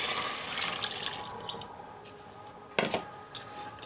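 Water poured into a pot of roasted rice for masala khichdi, heard as faint trickling and splashing with a few louder bursts of dripping and sloshing near the end.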